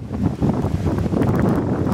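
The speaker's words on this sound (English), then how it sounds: "It is windy, kicking up good." Strong wind gusting over a lake in the Boundary Waters, buffeting the microphone with a low, continuous roar and rumble that swells and eases, with no talking.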